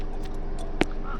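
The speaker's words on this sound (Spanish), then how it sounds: "¡Un cuervo! ¡Ahí por ahí arriba!" A single short crow caw rings out once, moderately clear above a steady outdoor background hum.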